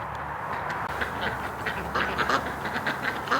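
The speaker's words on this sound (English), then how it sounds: "Ducks are enjoying the sun." A flock of ducks, Muscovies among them, quacks outdoors on a frigid winter day, with a steady chorus of overlapping calls close by and no pause.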